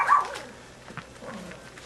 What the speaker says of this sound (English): Are you barking at the camera?